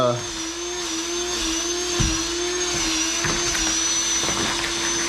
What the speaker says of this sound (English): I'll dry it out with that fan